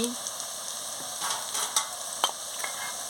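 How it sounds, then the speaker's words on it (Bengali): Onions frying in oil for a mutton curry as ginger paste goes in, a close, steady sizzle broken by brief scraping stirs and a few sharp crackles. "পেঁয়াজটাকে ভালো করে ভেজে নিচ্ছি এবারে আদা বাটা দিয়ে দিচ্ছি"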